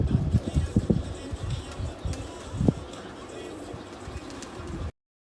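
Golden pigeons on a rooftop loft, faint soft coos and low murmurs at a distance under steady outdoor background noise, with a person talking over them.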